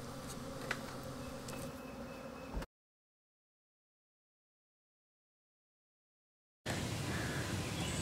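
Honey bees buzz in a dense, continuous drone from a colony being cut out of a structure, interrupted by a few seconds of silence before the swarm sound resumes.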